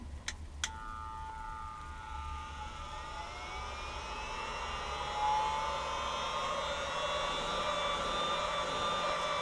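Small USB vacuum cleaner powered by a battery pack switches on with a couple of clicks, then its motor whines steadily and rises slightly in pitch as it keeps running.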